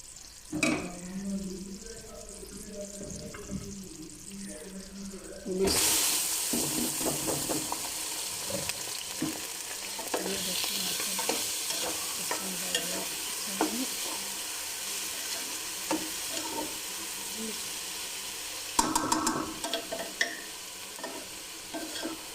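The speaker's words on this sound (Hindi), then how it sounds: "अब हम इसमें डाल देंगे चावल, थोड़ी सी आंच कम कर दें।" Rice is tipped into hot sugar syrup in a pot for sweet zarda, then a sudden burst of loud sizzling and bubbling follows, with spoon stirring and scraping scattered throughout.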